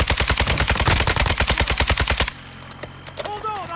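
An RPK machine gun in Warzone DMZ fires a loud, sustained burst of rapid, evenly spaced shots for about two seconds, then gives way to quieter game ambience.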